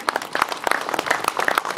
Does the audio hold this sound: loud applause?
yes